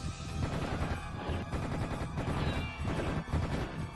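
Gunfire in the shooter Serious Sam: The First Encounter, a dense, continuous rattle of shots at fairly low level, unbroken for the whole stretch with no voices.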